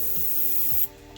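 A Chroma Air airbrush sprays paint at around 20 psi, a steady airy hiss that cuts off abruptly near the end, leaving a quieter background hum.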